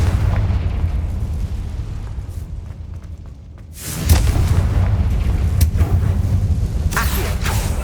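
A Confringo fire spell detonating in the PS5 game Hogwarts Legacy, a loud booming burst that swells midway over a rumbling game soundscape and is followed by crackling debris.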